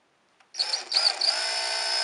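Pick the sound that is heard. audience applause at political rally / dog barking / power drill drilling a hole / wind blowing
power drill drilling a hole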